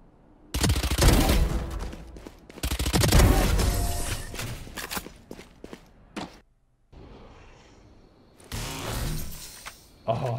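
Rapid bursts of gunfire from a Valorant weapon during Chamber gameplay, loud and close, firing in dense clusters separated by brief pauses and a short quiet stretch near the end.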